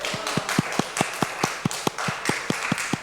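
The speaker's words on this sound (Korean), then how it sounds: "박수 한번 드릴까요?" Rhythmic clapping from a church congregation during a Sunday afternoon service, sharp evenly spaced claps at a brisk steady beat, fairly close and clear, lasting about three seconds.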